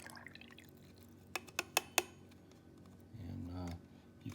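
About 120 ml of water pours into a cup in a short, soft trickle near the end, after a quick series of sharp clinks against the cup.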